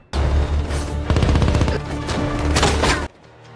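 Dense, loud gunfire from a Fast & Furious 7 shootout: continuous rapid automatic bursts with booming impacts, running for about three seconds and then cutting off abruptly.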